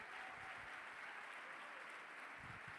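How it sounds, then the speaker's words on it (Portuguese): A church congregation applauds the Lord in a steady, even wash of clapping, faint and continuous throughout with no voices standing out. "pode aplaudir o Senhor."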